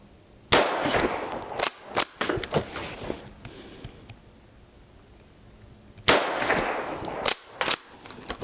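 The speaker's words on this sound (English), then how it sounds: "Let's take 5 more shots at this one up here and see what I can do." Offhand shots from a Rossi Gallery .22 WMR pump-action rifle, sharp close cracks with the pump action cycling between them, one cluster early and another after a quiet pause.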